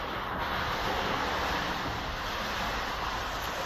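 Hurricane Ian floodwater from a river rushing through the ground floor of a building, a steady broadband roar of churning water with no break and no voices.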